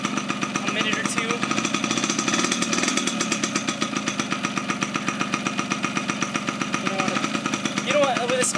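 A 1983 Yamaha RX50 Special motorcycle's small engine idles while warming up, a close, steady, rapid buzzing putter with a fast even pulse that holds throughout.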